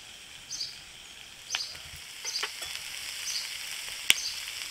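Capsicum stirred and fried in a pan for an egg chilli, a soft steady sizzle with several sharp clicks and scrapes of the spatula against the pan, quiet and close.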